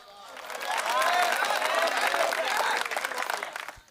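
An audience at a Hindi comedy poetry gathering breaks into sustained, dense applause that builds and then tapers off, with voices audible over the clapping.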